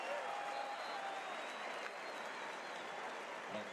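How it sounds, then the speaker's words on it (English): A loud crowd inside Boone Pickens Stadium at an Oklahoma State college football game against Kansas State, a steady wash of cheering and applause heard at a distance with a commentator talking over it. "so will this loud crowd inside Boone Pickens Stadium"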